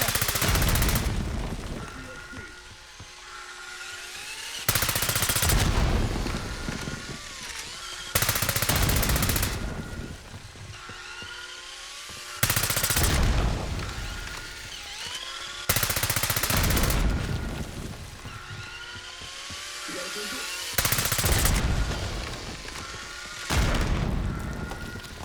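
Sustained firefight gunfire in Call of Duty: heavy bursts of automatic fire and booming shots recur every few seconds, loud and close, with quieter battle noise between the volleys.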